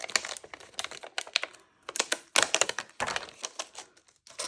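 Backing is peeled off a card-making sheet by hand close up, giving a rapid series of crisp crackles and ticks in irregular bursts with brief pauses between them.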